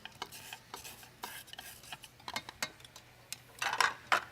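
A spoon stirs whole wheat flour with sugar and yeast in a bowl, giving quiet, irregular scraping and clinking strokes, close and soft, with a few sharper taps near the end and no talking.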